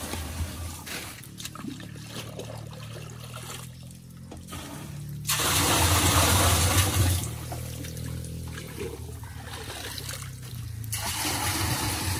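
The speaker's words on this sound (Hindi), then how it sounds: "तो हुण असीं जिहड़ा ना बाल्टी नाल पानी पावांगे, इन ड्रम नूं फुल भरना है।" Water poured from a bucket into a drum to fill it, with steady rushing and splashing that swells into louder bursts of pouring, nearby and without talk.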